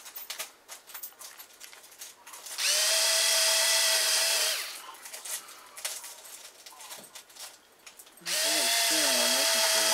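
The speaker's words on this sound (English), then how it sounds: "let's see if I can get around here and drill these holes" A power drill whines in two sustained bursts drilling holes while building a Kadet LT 40 model airplane, close and loud, separated by quieter handling noises and light tapping.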